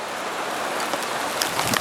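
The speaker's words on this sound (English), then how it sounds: "here's the rain" Rain falls on a rice field farm in the Philippines, a steady broadband hiss of drops with a few sharper close patters, moderately loud with no voices.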